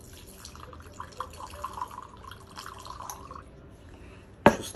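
Vodka trickles and drips into a glass outdoors by the sea, a light uneven pour ending in a sharp close clink of glass.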